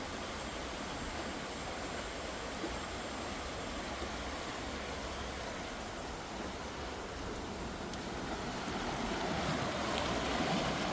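Mississippi River water flowing along a quiet stretch, a steady broadband wash without breaks, close and even throughout.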